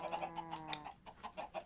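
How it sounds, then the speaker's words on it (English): Minecraft chickens in a Feed The Beast modpack clucking in quick, overlapping bursts, several birds close together, moderately loud with no talk. "Oh, all of our chickens have grown up."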